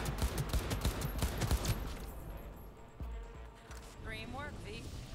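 An AK-style assault rifle in the video game Cyberpunk 2077 fires a rapid burst of close, sharp shots for about two seconds, then quieter game sounds follow, with a voice talking over it.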